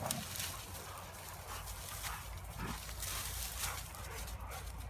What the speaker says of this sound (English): Got some bark.